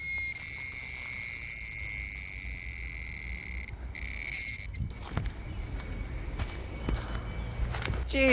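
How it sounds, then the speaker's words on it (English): A cicada in a Malaysian jungle gives a loud, shrill, continuous electric buzz that holds steady for several seconds, then cuts off abruptly, leaving quieter rustling and footsteps. "That looks like a cicada, actually."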